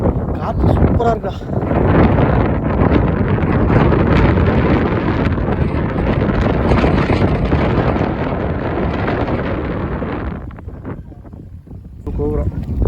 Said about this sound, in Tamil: காற்று சூப்பராக இருக்கா.